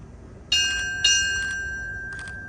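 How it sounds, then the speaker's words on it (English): A ship's bell is struck twice at a United States Navy retirement ceremony, two clear metallic strikes about half a second apart, each ringing on with a long fading tone, followed by a fainter tap-like echo and no talk. "Bell ringer, strike 2 bells."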